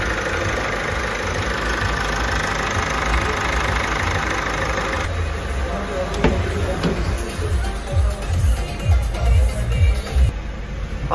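An Opel Insignia 1.6 CDTI diesel engine idles with a steady, close mechanical clatter that holds throughout, while voices talk over it toward the end.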